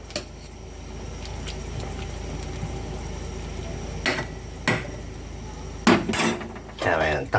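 A metal lid clanks onto a cooking pot of vegetable sinigang, with a few sharp clatters near the end over a low kitchen background.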